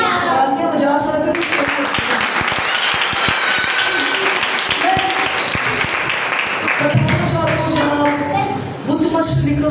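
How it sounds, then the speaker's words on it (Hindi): Church congregation at a Sunday service clapping together, a dense sustained round of applause filling most of the stretch, with a few voices underneath and speech resuming near the end. "तालियां बजा सकते"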